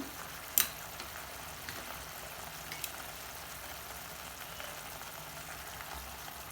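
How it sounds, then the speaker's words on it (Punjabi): Garlic-ginger paste fries along with onions in a pan for a stuffed tinda dish, a soft, steady sizzle heard up close, with one sharp utensil click near the start and faint stirring scrapes. "ਲਸਣ ਤੇ ਅਦਰਕ ਨੂੰ ਵੀ ਪਿਆਜ਼ਾਂ ਦੇ ਨਾਲ ਹੀ ਭੁੰਨਣਾ ਹੈ"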